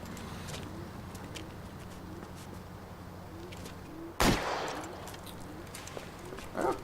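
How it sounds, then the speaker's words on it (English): One sharp, loud gunshot cracks from a pistol in the 1940s Los Angeles detective game L.A. Noire during a rooftop chase after a masked suspect, rising from a low ambient hum, followed near the end by a fainter, shorter burst. "I probably shouldn't have shot him in the head either, or tried to shoot him in the head."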